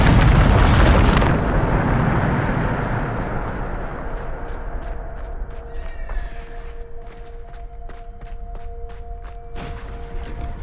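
A Bombarda spell blast in a video game booms loudly at the start, a heavy explosive roar that fades into a low rumble with scattered sharp crackles and a faint steady tone afterward.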